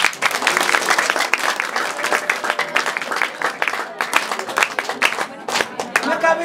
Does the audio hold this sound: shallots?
no